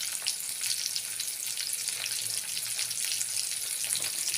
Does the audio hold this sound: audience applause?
no